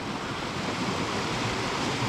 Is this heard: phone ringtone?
no